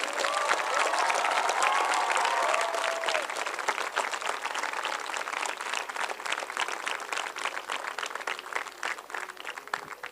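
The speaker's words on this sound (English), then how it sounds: "Let's clap for them." An audience at a school annual concert applauds, dense clapping that starts loud and thins slightly over ten seconds, with a brief voice audible near the start.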